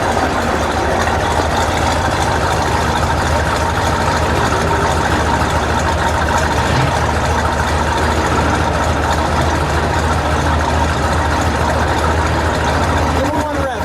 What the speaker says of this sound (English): we'll give it a little rev